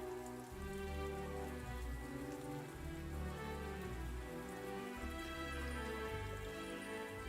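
Soft, continuous rainfall hisses evenly beneath low droning tones, faint and unbroken from start to end with no voices.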